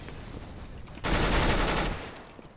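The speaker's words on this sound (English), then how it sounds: "There's an auto sniper there" Automatic sniper rifle in a CS:GO competitive match fires a dense, loud burst of rapid shots lasting nearly a second, standing out sharply against quieter game background.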